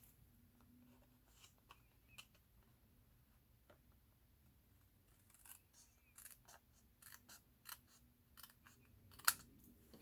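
Scissors trimming paper for a multi-pocket bellyband craft project, quiet scattered snips and ticks that grow busier and louder toward the end, with one sharp cut near the close.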